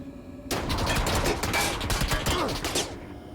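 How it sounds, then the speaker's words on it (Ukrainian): Rapid bursts of gunfire in a PUBG battle royale match, a sustained volley of close, loud shots running for about two and a half seconds with no talk over it. "Ти зверху з кімпів по мені стріляли?"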